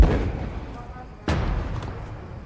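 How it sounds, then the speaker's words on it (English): Gunfire in a video game: a single sharp boom-like shot stands out partway through, against a steady background of game noise and low rumble. "Someone I hear gunshot."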